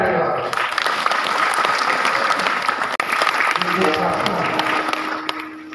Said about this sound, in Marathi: त्यांच्यासाठी सगळ्यांनी टाळी वाजवा